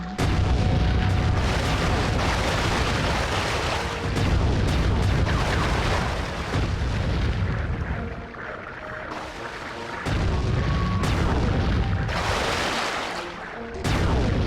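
Heavy cannon blasts in the video game Sly 3: Honor Among Thieves boom repeatedly in bursts, with rumbling gaps between volleys, loud and close.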